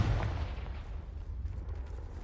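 Confringo spell blast from Hogwarts Legacy: a single low, muffled boom that decays into a quiet rumble, fairly faint and with no talking.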